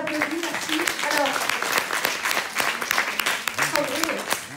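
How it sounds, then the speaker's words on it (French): An audience applauds after a talk on corporate purpose and inclusion, a sustained round of clapping with a voice speaking over it. "On les applaudit"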